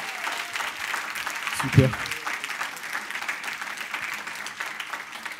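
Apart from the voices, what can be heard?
applause at a baptism session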